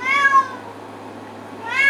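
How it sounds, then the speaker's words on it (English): A domestic cat meows twice, near and fairly clear, with a short rising-falling call at the start and another at the end over a faint background hum. "the cat meowing is"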